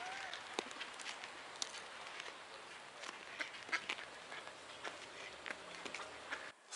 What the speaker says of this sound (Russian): А я же говорил, тут реально только утки.